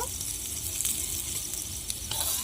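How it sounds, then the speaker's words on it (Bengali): Potatoes frying in a little hot oil, a continuous close hiss of sizzle with faint crackles and light stirring noises, no speech. "এবার আলুটা ভেজে তুলে নেব"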